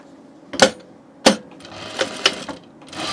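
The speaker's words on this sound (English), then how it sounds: "Just sewing the hanging loop real quick." A sewing machine sews a shirt's hanging loop in a few short, sharp mechanical clatters spaced apart, then a brief steady hum at the end, close and clear, with no voices.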